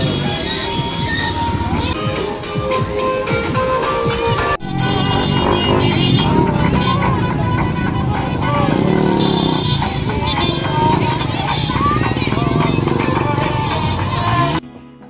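Motorbike engines rev and whine with rising and falling pitch, loud and close, as bikes ride on a beach, mixed with crowd noise and voices in the background.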